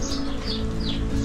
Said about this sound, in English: Got the sparrows there.